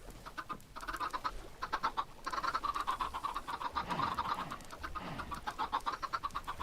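Chickens in the video game Minecraft clucking and chattering in a steady busy stream, moderately loud and close, with no talk over them.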